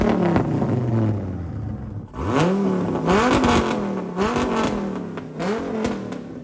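A Dodge Viper ACR engine in a workshop, rebuilt after heavy damage, revs repeatedly, with several loud, close throttle blips that rise and fall one after another and no talk over them.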